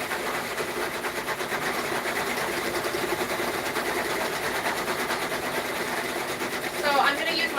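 A six-needle embroidery machine stitching an appliqué runs as a steady, close mechanical whir with rapid rhythmic needle chatter. Voices talk over it, and a brief squeaky chirp comes near the end.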